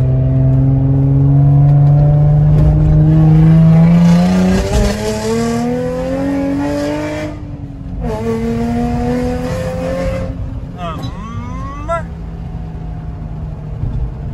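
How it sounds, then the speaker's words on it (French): A Nissan 350Z V6 engine revs hard and climbs in pitch, drops and surges again through several throttle blips, loud and close, with voices faintly underneath. "Ce bruit de V6 c'est juste incroyable."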